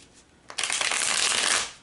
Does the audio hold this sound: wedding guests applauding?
no